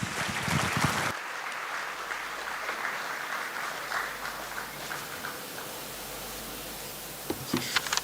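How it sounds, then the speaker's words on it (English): Audience at an engineering college award ceremony applauds, a brief loud burst of clapping that cuts to a quieter, sustained patter of scattered claps in a large hall, ending with a few close bumps. "with immense pride and a resounding sound of applause, let us welcome our chief guest, Dr. S. Somnath"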